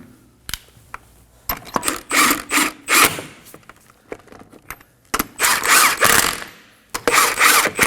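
Ratchet clicking in quick bursts as lug nuts are snugged onto the front wheel of a 2011-2016 Kia Optima, close and loud, with short pauses between runs of rapid pawl ticks.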